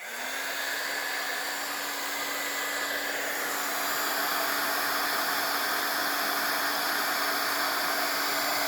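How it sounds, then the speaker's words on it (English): A handheld crafting heat tool blows hot air to melt embossing powder on a card, a steady close whirring hiss with a constant motor hum that starts abruptly and runs without pause, no voices. "when you turn your heat tool on that you're not aiming it at this. It'll blow it all over the place and it'll also melt it."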